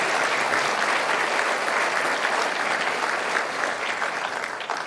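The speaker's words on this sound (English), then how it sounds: "Please give Ellen and her team a round of applause as well." A banquet audience at an anniversary dinner bursts into sustained, dense applause, many hands clapping together loudly and evenly for several seconds before easing slightly at the end.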